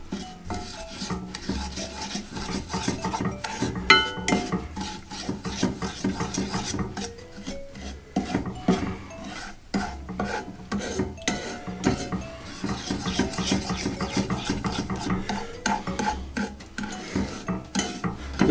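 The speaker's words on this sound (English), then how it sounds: "we're just going to give that a stir in now" A sesame snap mixture is stirred in a pan over low heat, with repeated scraping and clinking of a utensil against the pan in an uneven, busy rhythm, close and fairly loud.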